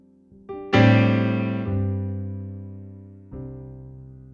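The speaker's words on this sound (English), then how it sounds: "all we're going to do is move our left hand and play different notes, and every note will work." Piano chords with the left hand shifting to different notes beneath: a couple of soft notes lead into a full ringing chord, followed by two more struck chords that sustain and fade, played alone.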